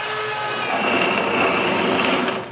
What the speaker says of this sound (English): Then with the slot mortiser, I make the slots.